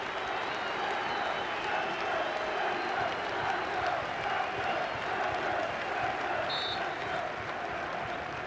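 A large stadium crowd at a football match claps steadily for a departing player, a broad, even wash of applause and murmuring, sustained throughout without a break.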